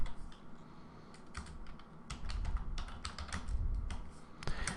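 Computer keyboard typing, a continuous run of close, irregular key clicks and taps at a steady pace over low background rumble, no voices.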